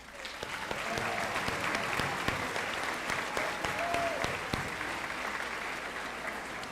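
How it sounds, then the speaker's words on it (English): Steady audience applause fills a school awards assembly, dense clapping from a large crowd that carries on evenly throughout with a few louder individual claps. "we could do one more round of applause"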